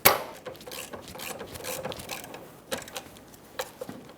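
A 17mm socket ratchet works loose the caliper bracket bolts on a 2003-2007 Honda Accord front brake, giving quick irregular clicks and metallic taps close by, with no voices.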